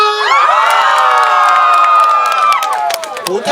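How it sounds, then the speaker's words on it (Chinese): An outdoor concert crowd at the Cijin black-sand beach music festival screams in a loud, sustained, high-pitched wave of many voices, fading into scattered whoops and claps. "所以尖叫声先给我准备一下尖叫声"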